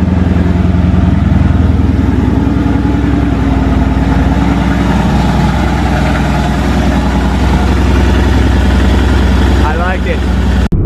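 A 2023 Ducati Panigale V4 motorcycle with stock exhaust idles with a loud, steady low rumble close by, unchanging for the whole stretch.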